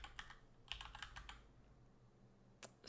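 Keys tapped on a computer keyboard while code is typed, in short bursts of quick clicks with a pause near the end, close and clear over a low background hum.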